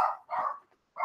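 Dogs bark at someone knocking on a door, two quick muffled barks followed by the start of another, heard alone from a nearby room.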